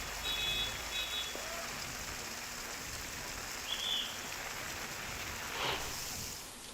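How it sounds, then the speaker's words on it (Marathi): Heavy rain falling in Kalyan, Mumbai, a dense, steady wash of hiss with faint beeps and passing traffic in the background. "इतक्या मोठ्या प्रमाणात जो पाऊस पडतोय"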